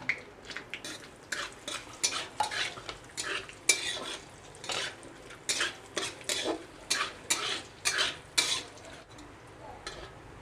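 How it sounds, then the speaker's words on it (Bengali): Whole spices, bay leaf, raisins and cashews fry in a pan while being stirred, with a soft sizzle under repeated, rhythmic scraping strokes of a spoon against the metal, close and fairly clear. "এবার দিয়ে দেবো কিশমিশ আর কাজু বাদাম"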